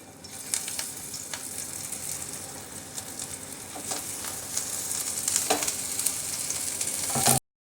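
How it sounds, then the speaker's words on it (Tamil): A potato pinwheel chapati fries in a little oil on a pan, a continuous close sizzle that slowly builds with scattered crackles and pops, then cuts off abruptly; no talking. "இந்த எண்ணெய் வந்து காஞ்சதும் இருக்கிற சப்பாத்தி இது போடுறோம்."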